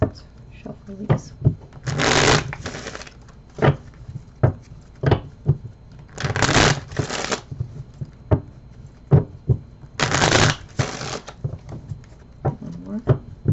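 Tarot deck being shuffled during a card reading; repeated bursts of crisp riffling and soft card slaps recur every few seconds, with light tapping and handling noises between them and brief spoken remarks alongside.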